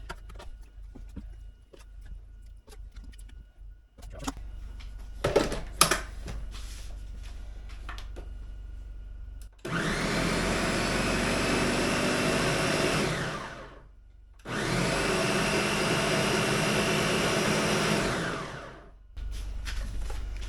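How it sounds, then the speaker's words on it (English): A blender purees cooked pumpkin pulp for pumpkin pie in a home kitchen, running in two loud steady bursts of about four seconds each with a short pause between, after some quiet handling and clatter. "put it in the blender and puree it and make it a finer pulp"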